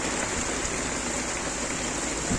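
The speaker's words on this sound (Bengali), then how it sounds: "প্রচন্ড বাতাস নদীতে প্রচন্ড ঢেউ সাথে বৃষ্টিও আছে প্রচুর" Steady, dense hiss of heavy rain and strong wind roaring without a break over a river with big waves, at the Kamrangirchar embankment, Dhaka.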